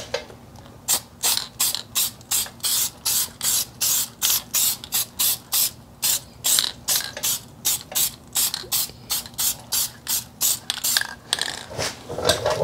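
A HyperDip (PlastiDip) coat sprayed from an aerosol can onto a 4Runner wheel in a long series of short, even hissing bursts separated by brief pauses, loud and close with no talk.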